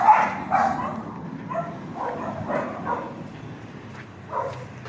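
Several dogs bark intermittently at a distance outside a beach house in Dumaguete, Philippines at night, a scattered series of yaps that rise and fade over a quiet background.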